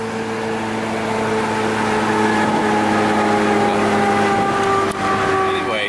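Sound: Honda Civic with B16 engine running

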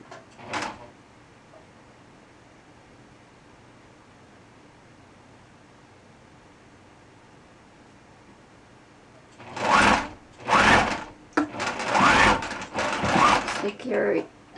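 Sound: sewing machine stitching wedding gown bodice

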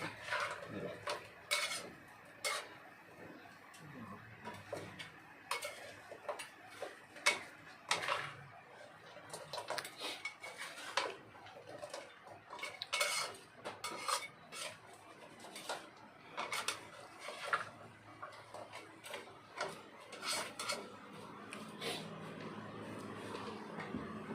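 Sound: stirring and frying in a large wok

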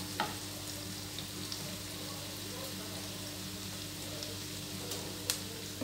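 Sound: onion frying in a pan until softened

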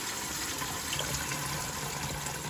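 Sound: rinsing and filling a container with water

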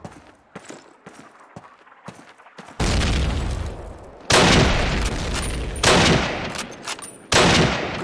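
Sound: gunfire in Call of Duty 1 video game

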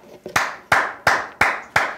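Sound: studio hosts clapping hands

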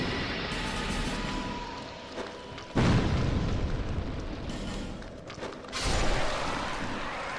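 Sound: bombs exploding in the video game Dark Souls 2

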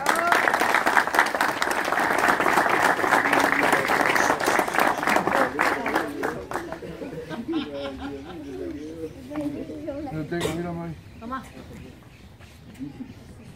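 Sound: applause

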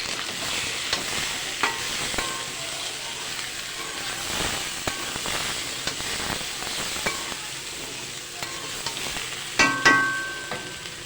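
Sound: stirring and frying a potato curry

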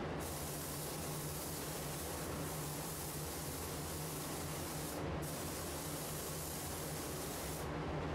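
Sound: spray gun spraying paint on panel

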